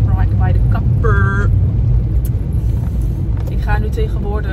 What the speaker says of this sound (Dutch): En ik zit nu in de auto.